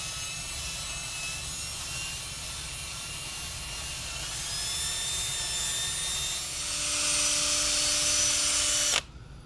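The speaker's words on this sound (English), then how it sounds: "Next, I'll take a brass wire wheel." A spinning brass wire wheel runs gently over an aluminum engine part from an R53 MINI Cooper S, a steady whirring hum that grows louder and harsher near the end before cutting off abruptly.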